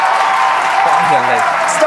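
A crowd's steady broadband roar and cheering at a Starship launch, sustained throughout with a voice talking over it.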